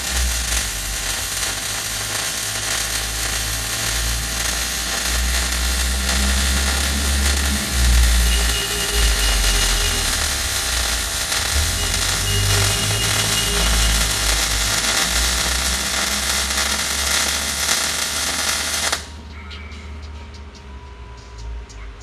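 A MIG welder runs a continuous bead in a welding class, making a steady, dense crackling hiss for nearly twenty seconds. The sound then cuts off abruptly, leaving near silence.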